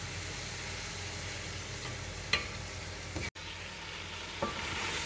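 Tomatoes sizzle and fry in a pan over high heat for a homestyle tinda chicken curry, a steady close crackle broken by a few scraping stirs and one brief dropout.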